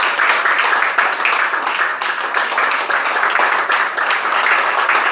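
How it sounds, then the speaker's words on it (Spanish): A church congregation at a service gives loud, lively applause, many hands clapping in a dense, busy stream with some sharper individual claps standing out, steady from start to finish. "Un aplauso para el Señor"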